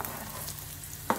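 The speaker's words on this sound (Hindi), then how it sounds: "इसके लिए बहुत ही अच्छे से इसको फ्राई कीजिए" Edible gum (gond) fries in a pan for methi ladoo, giving a steady soft sizzle with a brief stir or clink near the end, close and unaccompanied by talk.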